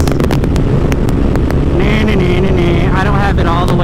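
A Lifan KPR200 motorcycle cruises on a freeway at about 72 to 74 mph with throttle not fully open, its engine drone buried in loud constant wind rush, a few whining tones rising near the end.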